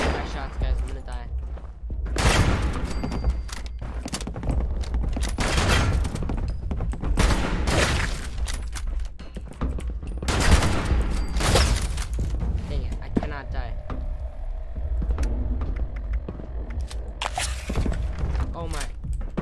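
Rapid bursts of gunfire and impact shots from the video game Fallout 76, fired in repeated volleys against steady background game noise, with a player talking over much of it.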